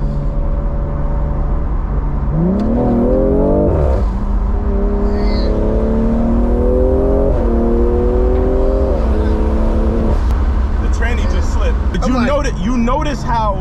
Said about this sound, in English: getting this car to launch is crazy.